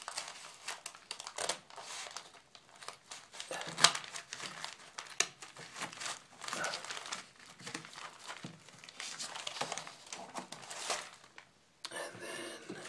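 Scissors snip through a paper template for rubber floor tiles, producing a continuous run of close crinkling, rustling cuts with irregular rhythm and no talk.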